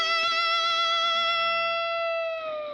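Electric guitar slide lick played with a glass slide on a tune, one sustained distorted note with wavering vibrato that slowly fades, played alone.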